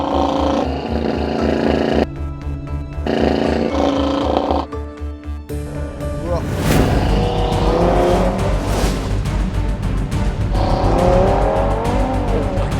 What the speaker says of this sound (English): I get to listen to the sound of a glorious 5-cylinder,